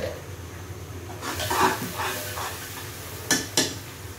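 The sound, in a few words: ginger paste added to frying pan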